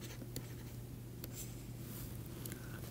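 Chalk or a pen scratches steadily as a lemma is written out during a linear algebra lecture, with faint intermittent strokes heard over a constant low room hum.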